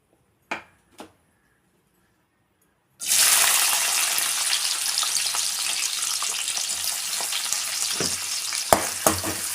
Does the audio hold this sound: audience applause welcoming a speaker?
no